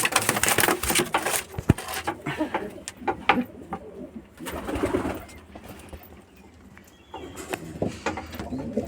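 Pigeons coo repeatedly close by during a flying session, their soft throaty calls rising and falling over brief wing flutters and light background rustle.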